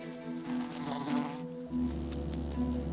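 A female oil bee buzzes with a steady, droning hum that holds for about three seconds, fairly close and clear, with no voices.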